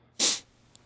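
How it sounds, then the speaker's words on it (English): A single sharp sneeze bursts out close and loud, lasting a fraction of a second, followed by a faint click. "I'm gonna sneeze."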